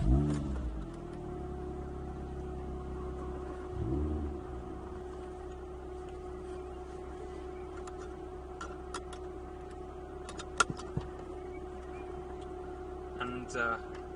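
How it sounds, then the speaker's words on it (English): A Porsche Boxster RS60 Spyder's flat-six engine cranks and catches, then settles into a steady, throaty idle with a brief rev. A few light clicks sound near the end. "the flat 6 engine, it has a really beautiful exhaust note"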